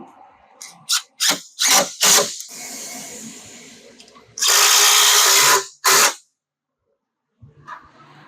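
A power tool drives thread-cutting bolts into a full skid plate on a 2026 Can-Am Maverick R. Several short, loud, close bursts are followed by a longer sustained run, then a brief pause and a faint final rattle, with no talking.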